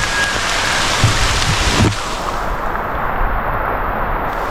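Steady heavy rain pours down, a dense hiss throughout, with a brief low thump partway through.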